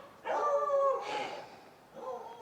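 A neighbor's beagle bays faintly from a distance, one drawn-out howling bark followed by a shorter, quieter one, with nothing else heard.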